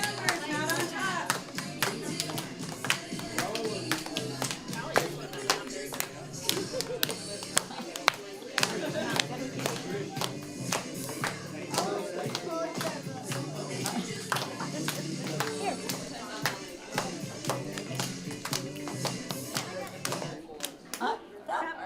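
Children clapping at a school literacy night, steady repeated claps echoing through a busy room, with voices talking and footsteps shuffling underneath.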